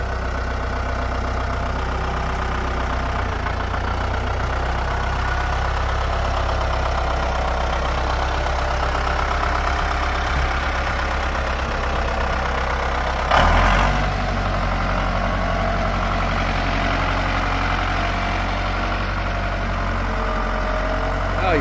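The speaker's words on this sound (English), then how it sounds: "Little tractor." A small tractor engine runs steadily in low gear, a continuous low rumbling drone with a brief clank partway through, heard close and alone.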